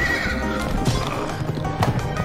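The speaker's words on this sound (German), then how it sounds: "Böses Pferd." A horse in the video game Pumpkin Jack gives a loud whinny, with hoof clip-clops and game music underneath.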